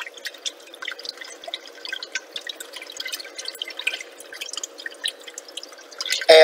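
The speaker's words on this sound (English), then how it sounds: "I'm going to just switch to my whisk just to make sure there's no lumps." A whisk works through cheddar cheese soup in a pot, giving soft, continuous wet clicking and splashing taps at close range with no talk.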